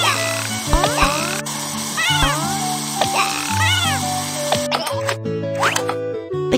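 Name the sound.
stray kitten meowing in Dr. Panda video game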